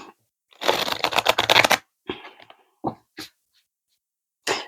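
A tarot deck riffled in one fast burst of card shuffling, followed by a few scattered card taps and soft handling noises in an otherwise quiet room.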